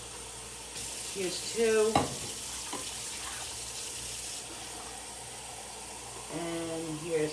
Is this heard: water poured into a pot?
yes